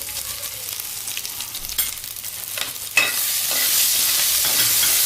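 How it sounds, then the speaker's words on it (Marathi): Green chili and ginger paste with a little ajwain sautéing in ghee, a few scraping stirs before a sudden loud burst of sizzling that then holds steady and strong. "तुपामध्ये हे थोडं लाईटली परतून घेते"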